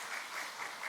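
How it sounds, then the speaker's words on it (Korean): A church congregation applauds the praise team during a Sunday family-invitation service, a dense, steady wash of clapping that fills the whole brief moment at moderate distance with no voices over it. "다시 한번 뜨거운 감사의 박수 부탁드립니다"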